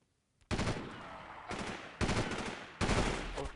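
Automatic weapon fire in a video game, three loud sustained bursts of rapid shots separated by brief pauses, close and harsh.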